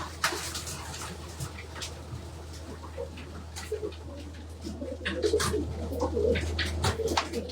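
Pigeons coo steadily inside a loft among hundreds of birds, with a constant low hum, wing flutters and scattered clicks throughout.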